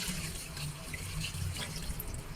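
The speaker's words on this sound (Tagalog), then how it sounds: "Hugasan muna natin ang bigas." Rice being washed in a sink under a running tap, with a steady rush of water and soft swishing throughout, close and moderately loud, no talking.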